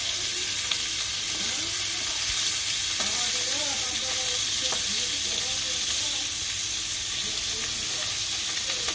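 Hilsa fish frying in a pan, a steady sizzle and hiss that runs unbroken and fairly close, with faint stirring noises over the top.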